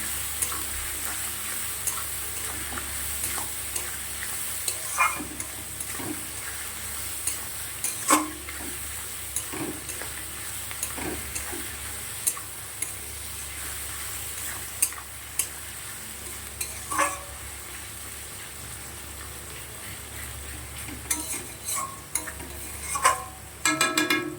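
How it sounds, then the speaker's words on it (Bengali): Onion lightly frying in a pan gives a soft, continuous sizzle with scattered ticks and scrapes of stirring throughout. "পেঁয়াজটা একটু হালকা ভেজে নেবো প্রথমে"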